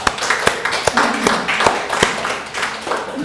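A church congregation claps sharply in a steady rhythmic beat, together in time, fairly close and lively.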